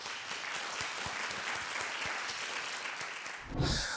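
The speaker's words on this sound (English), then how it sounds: "With a round of applause," Audience applause welcoming a startup founder onstage at a live pitch event, a steady dense wash of clapping throughout that swells slightly near the end.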